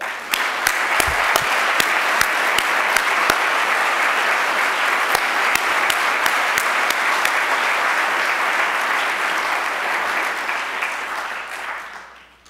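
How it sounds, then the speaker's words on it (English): Sustained audience applause fills a hall at a literary awards ceremony, loud and dense from the start, with a few sharper claps standing out, before it fades away at the very end. "Let's applaud them all."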